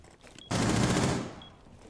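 A sudden short burst of rapid gunfire in the game Rainbow Six Siege, a loud rattling volley lasting under a second before fading, against a quiet background.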